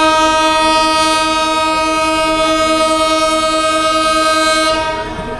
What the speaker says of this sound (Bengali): আমাদের ট্রেন কুলের সমীপে উপকূল এক্সপ্রেস ছেড়ে দিল ঢাকা থেকে